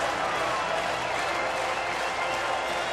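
A baseball crowd at Miller Park roars in a steady, dense wash of cheering and applause, sustained evenly throughout, while a commentator speaks over it.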